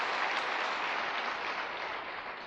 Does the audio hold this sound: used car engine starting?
no